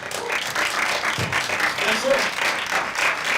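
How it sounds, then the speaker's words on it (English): Applause and scattered clapping come from people at a WarsawJS JavaScript meetup for the speakers, a fairly even patter with voices talking over it. "Everybody, like, clap for all the speakers."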